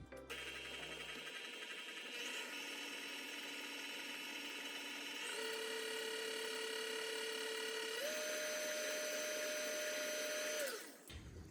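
An electric mixer beating butter, sugar, egg and vanilla for sugar cookie dough, a steady close whirring motor whine that shifts pitch a few times as the speed changes, then cuts off.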